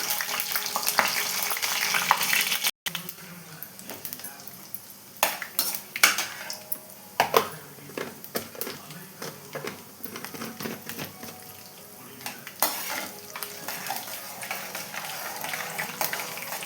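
Chana dal frying in oil in a pan for potato masala, a steady crackling sizzle with a utensil repeatedly scraping and stirring against the metal, loud and close with brief clinks throughout.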